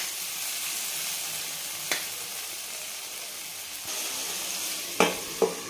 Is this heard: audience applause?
no